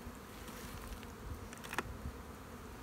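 Honey bees buzzing around an opened hive, a dense continuous drone with individual bees flying close by now and then, quiet and steady with no talking.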